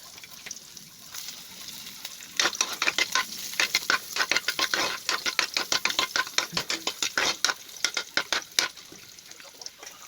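Garlic and onions sauté in a hot pan with cabbage for pancit, giving a steady sizzle broken by a quick run of scraping, clattering stirring strokes.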